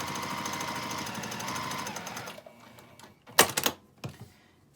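A sewing machine stitches across the corner of a quilt square in a fast, even mechanical rattle for a couple of seconds, then stops, followed by a few sharp clicks and handling noises.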